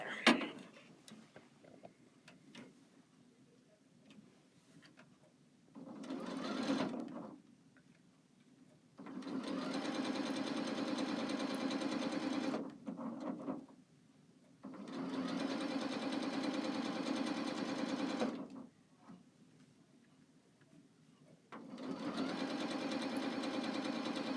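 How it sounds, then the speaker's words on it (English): A sewing machine stitches together a row of quilt pieces in several bursts of rapid mechanical whirring, each running a few seconds and separated by quiet pauses, close by with no talk over it. "Now I'm going to sew this row together."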